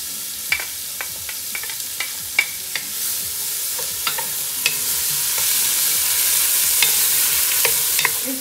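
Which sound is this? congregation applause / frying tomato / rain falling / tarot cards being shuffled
frying tomato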